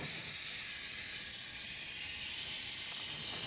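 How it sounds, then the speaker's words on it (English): Electronic cleaner sprays from a can under a 1998 BMW during an oil change, giving one continuous close hiss for a few seconds with no talking. "Spray a little bit."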